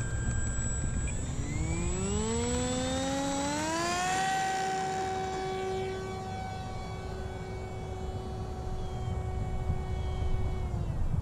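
An Icon A5 light aircraft engine drones during pavement landing practice, its pitch climbing smoothly over the first few seconds and then holding level as a loud, steady whine.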